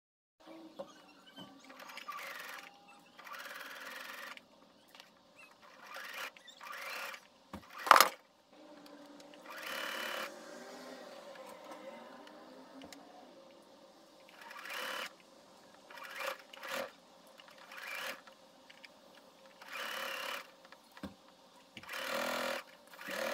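Sewing machine stitching the seam of a dress sleeve in several bursts of rapid mechanical whirring, with quiet pauses and small handling clicks between runs.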